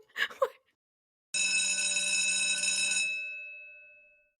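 A loud electric school bell rings continuously for about two seconds, then cuts off and fades, after a brief bit of sound at the start.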